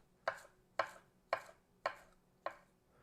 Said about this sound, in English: chop it up like this